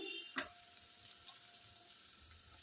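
Garam masala fries in hot oil in a pan with a soft, steady sizzle and faint crackles, quiet and continuous with no talking.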